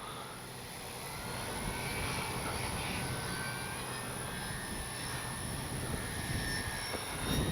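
An FMS PC-21 Pilatus RC plane flies in strong wind, its electric motor a steady, moderately loud hum mixed with broad gusty wind rumble that holds through the whole stretch without any talk.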